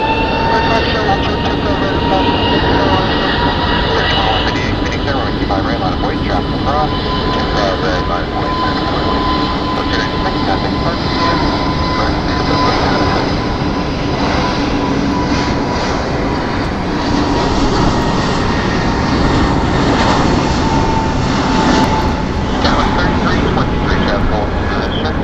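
Airplane landing at Phoenix Sky Harbor Airport, a loud, sustained jet engine roar with a broad rumbling wash that holds steady for the whole stretch, with radio voices faintly over it.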